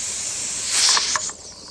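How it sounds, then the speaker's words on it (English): Steady hiss of steam venting from a pressure canner holding jars of spaghetti sauce, a continuous close rush of air that swells briefly louder in the middle before easing back. "It's been steaming for 10 minutes."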